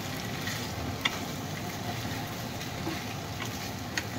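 Figs and potatoes with spices sizzle and fry in a pan while being stirred, a steady close crackle broken by occasional scraping clicks of the spoon, with no talk over it.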